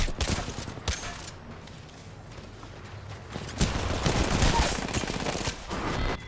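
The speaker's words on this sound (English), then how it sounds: "Oh, she had a shotgun." Shotgun fire rings out in a video game as a close, loud barrage of repeated blasts, heaviest in the second half, mixed with other combat noise.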